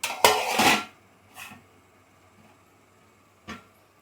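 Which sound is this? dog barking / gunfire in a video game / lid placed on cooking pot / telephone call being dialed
lid placed on cooking pot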